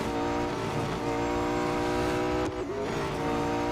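Race car in the Real Racing 3 video game, its engine droning steadily at high revs throughout, with a brief dip and squeal as it brakes partway through, loud and continuous with no talk.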